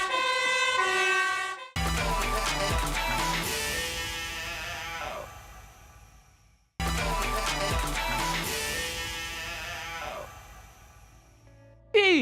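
An ambulance siren wails loud and close in two matching bursts, each several seconds long, separated by a brief break and layered with other bright tones.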